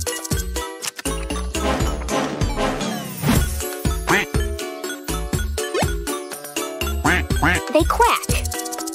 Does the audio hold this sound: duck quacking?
yes